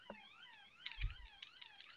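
Wavering, siren-like electronic warble of the Space Invaders mothership from the video game, repeating steadily and fairly loud, with a brief low thump near the middle.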